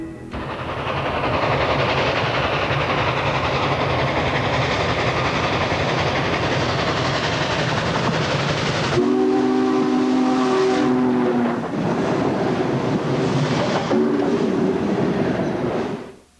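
Loud rumbling train noise with a steady roar at Railfair 91 in Old Sacramento, then a steam whistle sounds repeatedly in harmonic blasts, close and dominant.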